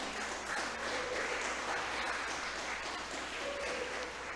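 Church congregation clapping for the Lord at a service, a soft, continuous patter of many hands heard from some distance, fairly faint and even throughout.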